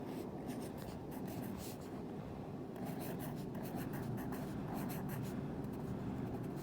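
Pen or pencil scratches across paper at the top of a page, close and quiet, a steady run of short scribbling strokes with no talking.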